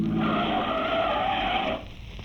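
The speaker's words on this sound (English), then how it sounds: "A car stopped in front of us." Car tires skidding to a stop as a radio drama sound effect: a loud, sustained screech lasting under two seconds that cuts off sharply, followed by quiet, with no talk.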